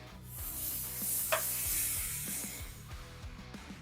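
A choice ribeye steak sizzles on a hot grill, a bright hissing fry rising and holding, close and moderately loud, with light knocks and clatter beneath and no speech.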